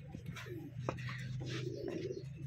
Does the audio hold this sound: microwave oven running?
no